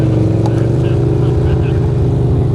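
An NYC Scrambler motorcycle revs hard as the rider tries to peel out on a dirt road, giving a brief, close, loud engine rumble with someone talking over it.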